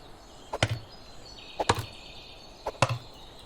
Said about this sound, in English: Let's use an axe first.